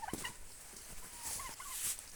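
Turkeys on a farm give faint, wavering gobbles and higher squeaky calls, with a rustling background noise throughout.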